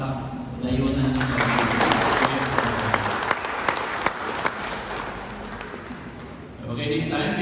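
Wedding guests applaud in a sustained burst of clapping that fills most of the stretch, with voices and music audible underneath before it fades out near the end.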